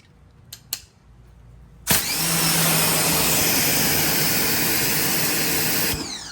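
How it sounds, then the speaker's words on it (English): Two pressure washers running together through a 40 degree nozzle start abruptly after a few clicks, then roar as a loud, steady, close hiss and engine drone for about four seconds before cutting off. "So now let's test it out with 2 pressure washers."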